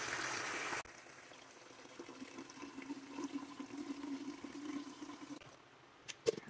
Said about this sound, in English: I take that to the sink and start filling it up with hot water.